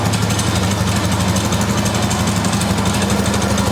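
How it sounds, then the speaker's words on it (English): A Polaris 325 Magnum four-wheeler with its exhaust broken away from the muffler idles close up, a continuous loud, buzzy chug with a rapid metallic rattle running through it and no talk. "That rattling sound is the exhaust."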